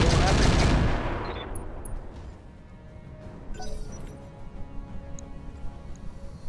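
Heavy explosive artillery shells fired in the mech combat game Roguetech: one loud blast that fades over a couple of seconds, followed by scattered clanks and ticks from the game.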